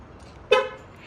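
A 2022 VW Golf GTI gives one short, sharp horn toot as lock confirmation when locked via keyless entry, heard alone and close.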